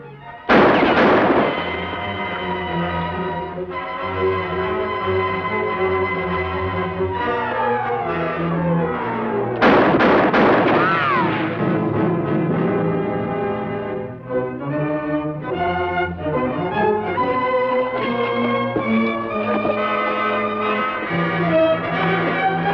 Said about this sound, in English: I wonder who's firing at us. Whoever it is aimed plenty bad.